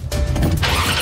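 A Porsche sports car's ignition key turns and the engine cranks and catches, a short loud mechanical churn rising into a running engine, with no voices.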